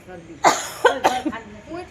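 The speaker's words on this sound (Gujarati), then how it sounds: "ઉધરસ થઈ ગઈ" A person coughs several times in quick succession, close and fairly loud, with throat-clearing bursts and quiet breathing between them.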